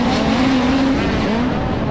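Midget race cars roar off at the green flag in a heat race, a loud, dense engine howl rising in pitch as they accelerate together, close and continuous.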